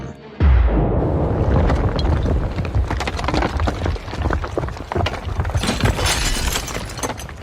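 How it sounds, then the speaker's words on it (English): A loud, ear-splitting explosion erupts abruptly after a brief hush, followed by sustained crashing and shattering debris and rumble for several seconds, at a house on the New Jersey Palisades above the Hudson River. "An ear-splitting explosion rocks a quiet house on the New Jersey Palisades overlooking the Hudson River."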